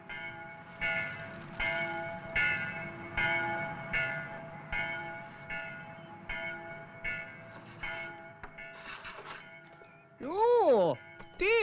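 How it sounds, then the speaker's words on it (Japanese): A village church bell in the Alps tolls in a steady, even rhythm of repeated ringing strokes, fairly distant, with a brief swooping tonal sound near the end. "村の教会の鐘よ。"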